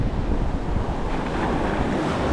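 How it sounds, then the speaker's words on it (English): Constant wind buffets the microphone over the steady wash of surf breaking on a beach during beach fishing, loud and continuous with no voices. "it's a bit windy"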